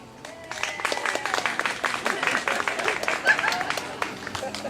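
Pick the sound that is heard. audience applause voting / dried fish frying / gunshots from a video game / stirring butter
audience applause voting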